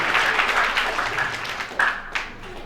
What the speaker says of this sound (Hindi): एक बार इनके सम्मान में जोरदार तालियां बजाते हैं